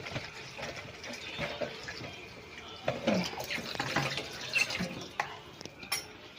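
Tap water runs and fills a container for a leashed puppy's drink, a steady splashing pour with irregular drips and bumps, fairly close and moderate in level, with no talking.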